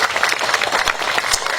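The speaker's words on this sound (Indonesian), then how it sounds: "Tepuk tangan untuk pemerintah" Brief clapping from a crowd at a humorous Sundanese religious talk, a short patter of scattered hand claps lasting under two seconds.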